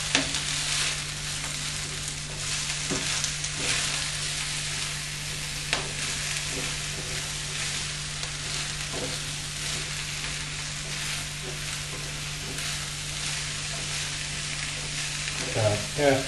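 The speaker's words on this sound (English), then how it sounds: "it's a good idea to just keep stirring it all around, make sure everything's got little bits of olive oil on it" Sausages sizzle and fry in olive oil in a pan while a stir fry is stirred, a steady close hiss throughout with occasional scraping clicks and no speech.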